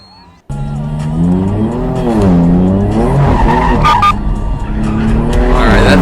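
A car slides sideways with a loud, sustained tire squeal whose pitch sweeps up and down, the engine revving underneath after an abrupt start, close and intense.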